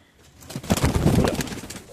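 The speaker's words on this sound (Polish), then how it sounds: "To są wielkie gołębie, ale prześliczne skrzydła mają te gołębie." Large pigeons coo inside a pigeon loft, a close cluster of throaty, rolling coos swelling in the middle and fading at the end.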